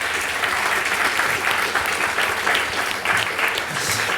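Audience applause after a presentation at a corporate conference, a dense, steady wash of many hands clapping together, loud and sustained without a break.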